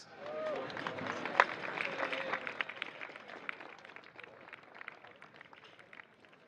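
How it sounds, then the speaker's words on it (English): At the FIA Karting European Championship in Valencia, Spain, a crowd claps for the OK Junior drivers on the podium, a thin, fairly distant spatter of applause that fades gradually. "Give it up then. One final round of applause."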